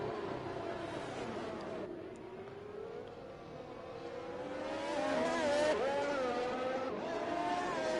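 Race cars accelerating in a racing game during an Abu Dhabi round, a continuous rising engine drone with pitch sweeping upward as speed builds, loud and sustained with faint talk beneath.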